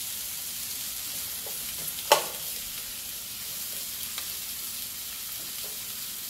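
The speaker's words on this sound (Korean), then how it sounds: "호박하고 당근하고 먼저 볶으시다가 양파하고 파는 그때 넣으시면 돼요." Zucchini and carrots stir-frying in a pan over high heat, a steady broad hiss of sizzling with one sharp clack from the utensil partway through.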